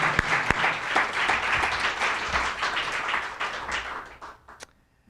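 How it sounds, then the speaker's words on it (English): Audience applause fills a gathering at UCSF celebrating palliative care, a dense steady clapping that holds for several seconds before thinning out and stopping near the end. "I'm going to give us all just a round of applause for getting here."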